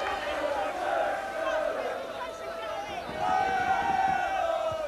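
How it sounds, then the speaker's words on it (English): Southend football fans cheering behind the goal at a 1989/90 Exeter City league match, a distant crowd roar in swelling waves, with a commentator's voice over it. "The Southend fans behind the goal cheer, but it won't count."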